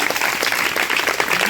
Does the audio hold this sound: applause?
yes